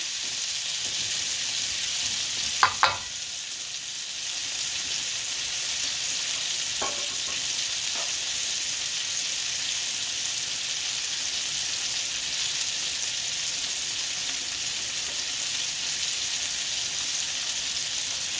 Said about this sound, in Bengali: এখানে কিছু বাটার গলিয়ে নিয়ে মেল্ট করে নিয়েছি এখন আমি অনিয়ন দিয়ে দিচ্ছি